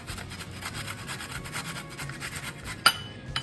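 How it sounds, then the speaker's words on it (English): Peeled fresh ginger rubbed finely against a grater in a home kitchen, a soft steady rasping of repeated close strokes, ending with a sharp clink near the end. "I'm going to grate the ginger finely"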